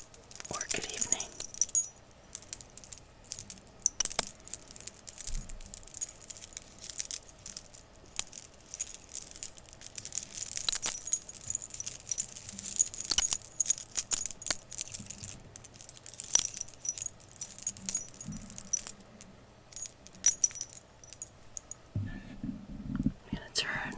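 Gemstone wind chimes jingling up close in a soft setting, light bright tinkling and rattling in irregular bursts throughout, with faint whispering and a low murmur near the end.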